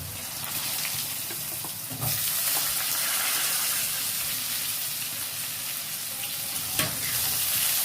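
Thinly sliced potatoes drop into hot oil already tempered with dried chillies and five-spice, crackling into a steady loud sizzle with a few stirring scrapes, with no voices, in a village kitchen making a leafy-greens stir-fry.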